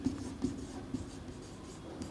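Pen or marker writing math coefficients on a surface, a soft continuous scratching with a few light taps, close and steady, with no talking.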